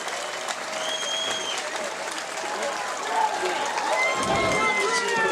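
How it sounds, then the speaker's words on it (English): Crowd ovation at a championship pickleball court in Naples, Florida, after a senior mixed doubles gold medal match: steady applause and cheering fill the whole stretch at a constant level, with voices calling out in the mix. "A nice ovation out of the crowd here at Zing Zang Championship Court."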